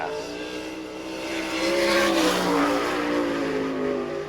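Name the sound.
sprint car number 23 racing a qualifying lap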